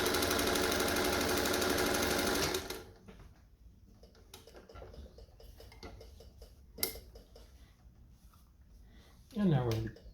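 A Singer 201 sewing machine with a rotary hook stitches in a loud steady run for a few seconds, then stops, leaving quiet handling clicks and a short whir near the end.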